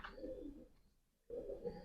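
Breeding pigeons coo softly in two short, low throaty bursts separated by a brief pause, faint and close.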